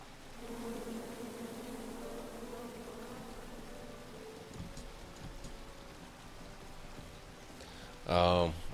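Bees buzz steadily in the King's Quest video game, a low continuous drone under a voice, with a louder burst of sound near the end.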